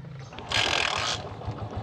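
A motorcycle engine catches after a kick start: a short burst of broadband noise, then a steady low idle that keeps running, close to the microphone.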